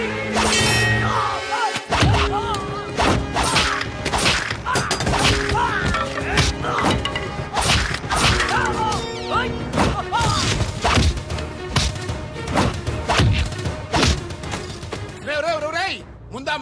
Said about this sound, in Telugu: రేయ్ ముందా మాధరావు కూర్చున్నటువంటి కారు అద్దాలు పగలగొట్టి వాడిని బయటికి ఇచ్చి